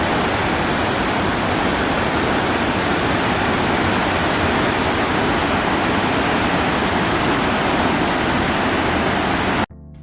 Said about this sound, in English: there is an insane amount of water flowing through here